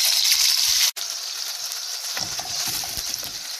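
Onion paste sizzles in hot oil in a pot, a loud, close, steady hiss that drops out for a split second, then carries on with faint stirring underneath.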